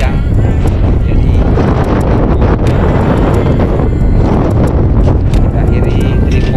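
Strong, steady wind buffets the microphone aboard a fishing boat at sea off Bali during a sudden squall with heavy rain, a loud, continuous roar with no letup and no voices.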